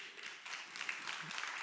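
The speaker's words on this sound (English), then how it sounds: "I'll take the clapping for Thich Nhat Hanh" Audience applause at a talk in the Educació per la Vida 2019 event, a fairly soft, steady patter of many hands clapping that carries on throughout.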